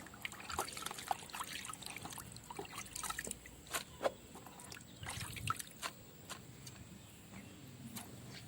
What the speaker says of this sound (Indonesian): Kita cuci beberapa kali dulu biar sampai bersih karena beserta akarnya.